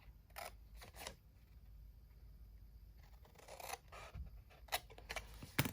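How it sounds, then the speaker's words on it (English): Scissors snip through the paper flaps of a scalloped gift box in a handful of quiet, crisp cuts spaced irregularly, with faint rustling of paper between them. "So I'm just going to cut like this, cut like this, do the same thing on the opposite side."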